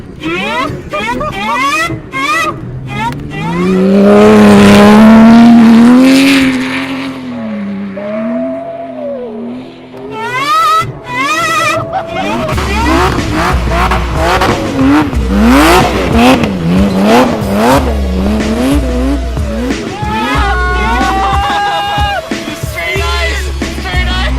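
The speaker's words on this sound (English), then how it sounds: "Dude, it sounds like the supercharger is literally right behind your head." A supercharged Porsche rally car engine on ice revs and whines loudly, its pitch climbing and falling, with people talking over it before and after the main roar.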